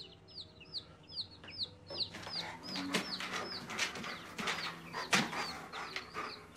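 A small flock of chickens clucks and warbles steadily at moderate distance near a fence, with soft coo-like calls and occasional bumps and rustles between the bursts.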